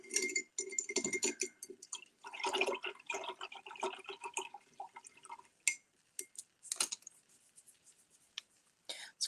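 A paintbrush swishes and taps in a jar of rinse water during watercolor painting, making faint, close, irregular splashes, drips and clinks with quiet gaps.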